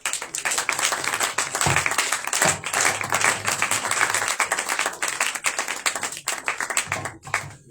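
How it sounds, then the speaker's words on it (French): Dense, continuous applause from a congregation at a Pessah 2025 church gathering, many hands clapping loudly and close without a break, with faint voices mixed in. "sous vos acclamations, nous allons appeler l'apôtre Destin pour un mot d'introduction"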